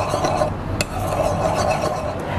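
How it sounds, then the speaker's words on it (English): Light soy sauce and sweet chilli sauce stirred together in a small bowl, a soft continuous scraping with faint clinks of a spoon against the dish, close and alone. "Give this a good stir."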